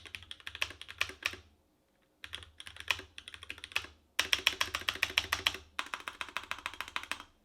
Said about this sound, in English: This is a sound clip to show you the example of how these Keychron brown switches sound on the